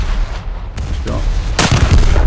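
The big guns of the battleship HMS Renown fire in a naval video game: a heavy, loud blast and rumbling boom that swells near the end over steady background noise.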